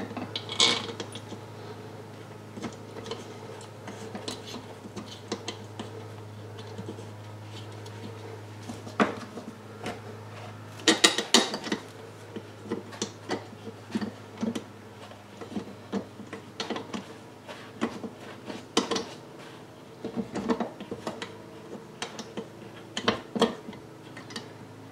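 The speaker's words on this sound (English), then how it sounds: "flip the transmission up so that I can get the bolts in that hold the shift cam plate in place" Metal transmission parts and bolts for a 1983 BMW R100RS being handled on a workbench during assembly, giving scattered close clinks, ticks and light knocks at irregular intervals over a low steady hum, with no talking.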